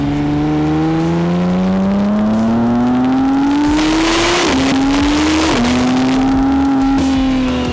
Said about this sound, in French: À pleine puissance, c'est immédiat et quasiment infini. L'hybridation catapulte instantanément la voiture